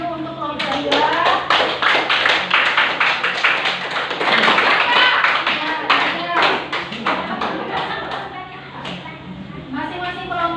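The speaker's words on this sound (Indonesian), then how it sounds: "Tepuk tangan dulu untuk kelompok 2." A classroom of students claps for a presenting group, with busy, uneven clapping and tapping running throughout under children's voices and chatter.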